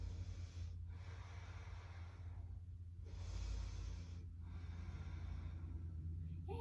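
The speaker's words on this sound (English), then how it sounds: "3 big breaths here" Slow, deep breathing through a yoga balance pose, with three long airy inhales and exhales swelling and fading over steady low room hum, close to the microphone and with no talking.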